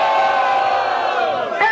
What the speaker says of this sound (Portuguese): Agora para o barulho, quem gostou da rima do MC Jedi?